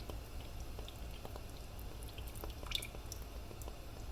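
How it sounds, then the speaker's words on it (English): Hot broth drips from a whole boiled chicken held over a simmering pot of Southern Brunswick stew, making scattered small splashes and bubbling patters over a constant low kitchen hiss, with no speech. "I'm letting some of that broth drip off of it because we've already got plenty of broth in the pot"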